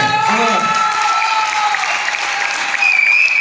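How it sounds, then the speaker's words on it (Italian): An audience at a local Italian community gathering breaks into loud, continuous applause, dense clapping heard up close for several seconds with some tonal sound mixed underneath. "vogliamo fare il nostro ringraziamento e applauso alla voce del muratore, Daniele Sorbello."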